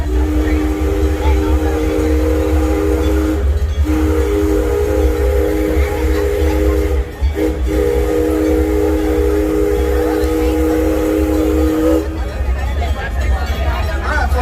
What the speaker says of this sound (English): we're going to take a haunted train ride here